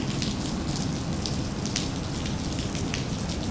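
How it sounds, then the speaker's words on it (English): Steady rain falls on a rainy morning at Dallas Love Field airport, a constant soft hiss with scattered drop patter, moderately quiet and alone with no talk. "So it is definitely raining here. You can probably hear it."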